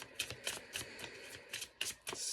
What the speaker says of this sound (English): Such a nice, easy deck to shuffle.